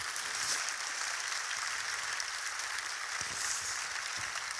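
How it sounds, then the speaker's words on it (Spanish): An audience applauds after a gladiator combat demonstration, an even, fairly faint wash of clapping throughout with a few sharper claps near the end. "Yo creo que se puede aplaudir, si ustedes quieren"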